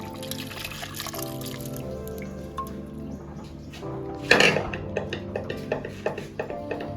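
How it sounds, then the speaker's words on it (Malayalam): A thick ground paste for a jackfruit-seed, drumstick and mango curry is poured into a metal pan, a soft gloopy splash followed by a few light scrapes and clinks of utensils. "അപ്പോൾ ചട്ടിയിലേക്ക് ഒഴിച്ചു കൊടുക്കാം"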